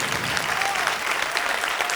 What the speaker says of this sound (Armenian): Եկեք ծափահարենք նրանց։